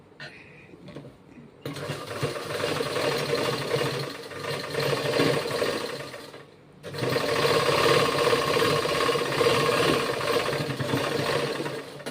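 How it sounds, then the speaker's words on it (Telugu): Sewing machine stitching cloth, a steady fast mechanical whirr that runs for several seconds, pauses briefly, then resumes louder and continuous, close and alone without talk. "ఒక స్టిచ్ వేసేసి చూపిస్తాను"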